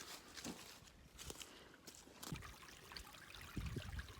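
A small woodland stream trickles and babbles at a campsite water source, faint and steady, with a few soft thumps or shuffles mixed in.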